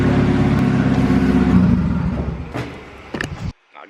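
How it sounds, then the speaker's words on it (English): A car engine runs loudly and close with a steady low hum that rises and falls slightly, then tapers off before brief clunks and a sudden cutoff. "the engine's running"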